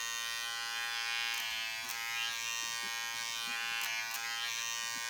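A Stylecraft Rebel cordless hair clipper runs with a loud, steady, high-pitched motor buzz throughout, close and continuous with slight wavering.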